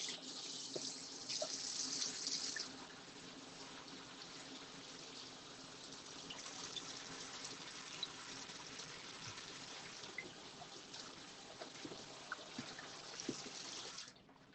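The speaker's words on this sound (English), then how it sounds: "Just going to give these a quick rinse." Running tap water pours steadily over pak choy leaves in a kitchen sink, a continuous wash of splashing flow that is louder at the start, then holds even until it cuts off near the end.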